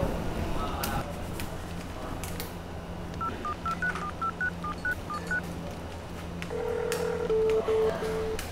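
Telephone keypad tones beep as a call is placed, a quick run of about a dozen short touch-tone beeps followed by a few longer steady tones, over a low background hum with faint voices nearby.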